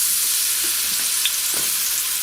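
Banana pieces fry in a hot pan with a steady, close sizzle, a soft clatter and stir at one moment, and no voices.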